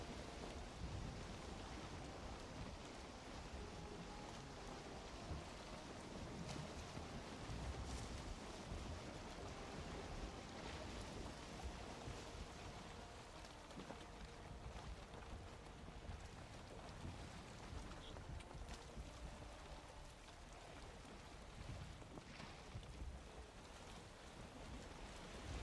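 A boat sails through a stormy sea in the game Valheim, with steady rain, wind and crashing waves filling the whole stretch as a continuous loud wash, and occasional rumbles rising beneath it.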